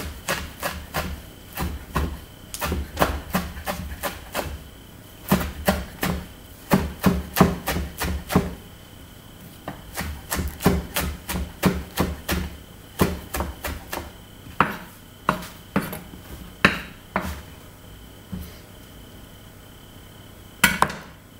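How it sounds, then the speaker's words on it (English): A knife chops herbs rapidly on a wooden board in bursts of quick, sharp taps, pausing briefly between runs, with no talking. "And I'm just going to keep chopping here."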